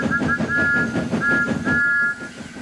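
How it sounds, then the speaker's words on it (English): Thomas the tank engine's steam whistle sounds as a steady high tone in repeated bursts, near and clear, over a busy rhythmic background for about two seconds. "The all-too-familiar whistle rang through the air."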